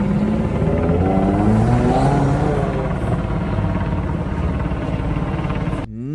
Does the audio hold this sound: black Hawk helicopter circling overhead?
yes